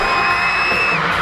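A comedy-club crowd whoops and yells in a short, loud burst, with a sustained high whoop over dense cheering and no clear speech.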